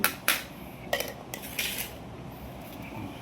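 White rice is served from a metal pot with a spoon, giving several sharp, close metallic clinks and scrapes with short pauses between them and no talking.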